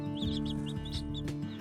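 Newly hatched black copper Marans chicks peeping steadily and close by, with rapid repeated high chirps over a low background hum.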